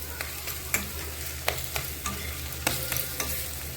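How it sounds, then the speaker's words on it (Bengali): Spice masala for a mushroom curry is stir-fried in a pan, giving a steady close sizzle broken by about a dozen sharp spatula scrapes and taps at an uneven rhythm. "মশলাটা খুব সুন্দর কষানো হয়ে গেছে"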